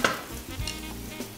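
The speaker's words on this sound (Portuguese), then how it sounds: "dá uma mexidinha no bacon, ele tem que fritar bem" Bacon and pork ribs sizzle in a pan, a steady frying hiss broken by a few soft stirring scrapes, close and moderately loud with no talk.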